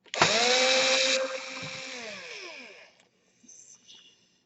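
A power screwdriver whirs loudly while backing screws out of an Asus K53E laptop, its motor pitch sliding down as it winds to a stop, followed by a couple of faint small clicks.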